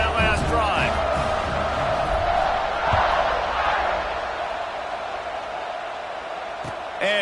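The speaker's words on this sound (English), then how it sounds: "this crowd is feeling themselves after that last drive" A stadium crowd in the Madden 26 football game gives a broad, steady roar and cheer that swells slightly then settles, under a commentator talking throughout.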